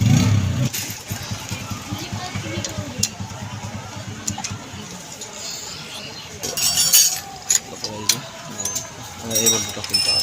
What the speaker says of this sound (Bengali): এই বল্টুটা খুলতে হবে